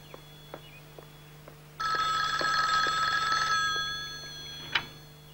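A telephone bell rings in one sustained burst indoors, loud and close against a quiet room, followed by a single short clunk as the receiver is picked up.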